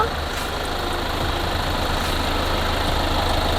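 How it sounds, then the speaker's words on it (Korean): A Kia All New Carnival 11-seater Prestige engine idles with the hood open, a steady, even mechanical hum heard up close with no voices over it. "엔진 소리도 일정합니다."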